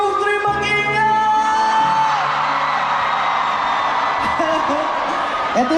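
A large concert crowd at a world tour show in Dubai roars, whoops and shouts continuously, loud and dense throughout, with a sustained singing or voice tone riding over the crowd in the first seconds.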